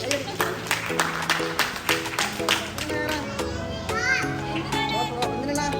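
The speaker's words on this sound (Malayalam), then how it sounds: "കൈയടി കൈയടി കൈയടി" Children clap together at an Independence Day celebration, sharp rhythmic claps landing in a regular beat over sustained tones and children's voices.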